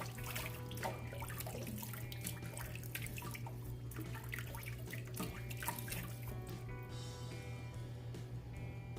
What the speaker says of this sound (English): Let's throw a little bit of water on the face.